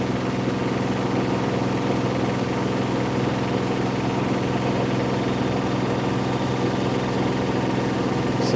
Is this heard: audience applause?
no